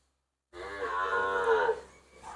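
A single long, loud moo from a native Thai cow at the Wang Prachop cattle and buffalo market in Tak, held for over a second before trailing off, with no talk over it.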